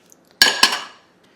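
Dishes and cutlery clinking as they are put away near a dishwasher in a home kitchen: two quick, close clattering impacts with a bright ringing tail, fairly loud.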